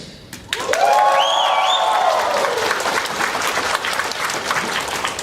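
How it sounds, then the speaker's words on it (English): A fan festival crowd at a closing ceremony in Toronto applauds loudly and steadily, with cheering and whoops rising over the clapping throughout. "I'm going to judge just by audience applause"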